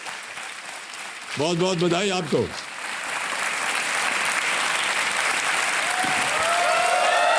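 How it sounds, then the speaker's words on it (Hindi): A game-show studio audience breaks into steady applause that swells and holds. Someone speaks briefly over the start, and faint music tones rise near the end. "तालियां बज जाएं इनके लिए।"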